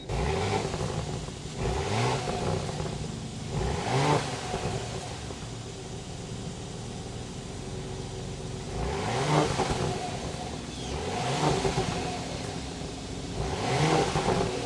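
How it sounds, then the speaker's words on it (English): A 2025 Porsche Cayenne Coupe engine rumbles at idle and is revved repeatedly, each throttle blip rising and falling in a deep exhaust growl, close and loud. "start it up, so you can hear that exhaust note"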